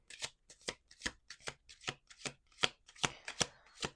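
A deck of tarot cards is riffled and shuffled in a quick, even rhythm of about a dozen crisp, close flutters, with no talking.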